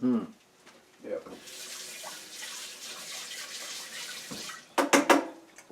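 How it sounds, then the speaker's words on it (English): Tap water runs steadily over a spoon at a kitchen sink while cooking sage-encrusted halibut with fig preserve, a continuous mid-level hiss with brief voices at the start and end. "Rinse off the spoon."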